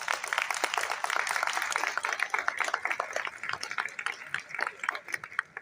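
A crowd of students claps at a college farewell party on the Aspire College Chakwal campus, a lively, uneven patter of many hands that stays strong before thinning slightly toward the end.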